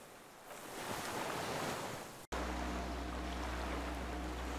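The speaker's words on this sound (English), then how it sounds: "The skiff is swaying on the waves by the dock." Waves lapping at a wooden dock where a small skiff sways, in Disco Elysium: a steady wash of surf and water noise, broken by a sudden cut into a lower, rumbling water ambience.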